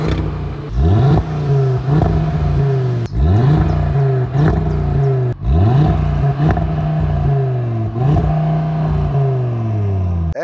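A 2025 Audi RS3 engine and exhaust revving hard through repeated pulls, each rising whine climbing then dropping with a crackle at the gear changes, loud and close, no talk.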